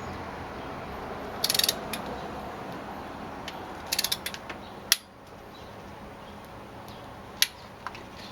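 A ratchet tightens a spark plug on a 2005 VW Passat 1.8T, giving a few short bursts of quick pawl clicks over a low steady hum, with a sharper click near the middle and another toward the end.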